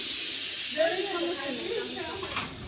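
Ghee hisses and sizzles steadily in a hot cooking pot, a loud, close, continuous spray of sound with a voice speaking over it.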